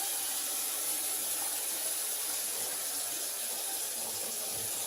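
Hot water runs steadily from a bathroom tap, a constant close hiss of flowing water with no other sounds.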